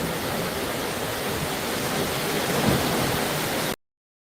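Steady rain pours down outdoors at night as a dense, even hiss that holds at a constant level for nearly four seconds, then cuts off abruptly.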